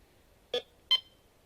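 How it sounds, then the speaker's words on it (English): A metal detector dug out of storage, with no volume control, gives two short, sharp electronic beeps about a third of a second apart against near silence. "So I dug my metal detector out of storage. It is really loud."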